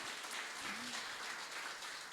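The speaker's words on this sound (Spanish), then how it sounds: "Dele ese aplauso a Dios que es para él" A church congregation applauds together in a brief, dense burst of clapping from many hands that fills the room evenly.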